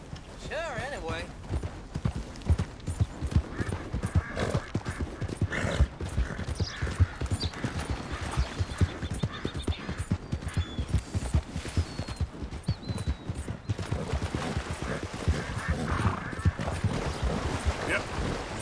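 Horse hooves clip-clop in a steady rhythm of close, repeated thuds while riding in the Red Dead Redemption 2 video game, with character dialogue and ambient wind and water sounds running over the top.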